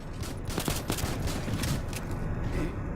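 A sniper rifle firing in the shooter game AXYOS, with a few sharp cracks amid dense, rolling gunfire and battle noise, loud and close.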